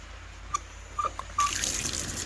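A few faint drips and squeaks, then water suddenly gushes from a repaired frost-proof outdoor hose bib in a steady, hissing flow, fairly close by.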